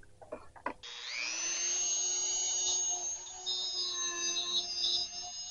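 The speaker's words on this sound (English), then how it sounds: "At this point, I'm continuing the pickup cavity routing. I'm trying a different bit in my Dremel tool." Dremel rotary tool fitted with a different bit routes a pickup cavity in a guitar body, a steady high-pitched whine spinning up after a few brief taps and holding loud and close for several seconds, pitch wavering slightly as it cuts.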